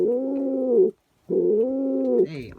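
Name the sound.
pet bird cooing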